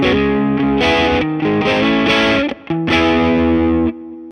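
Heavily overdriven electric guitar through an AmpliTube 5 overdrive pedal plays loud, fuzzy chords in a few sustained strums, with a brief gap before the last chord rings out.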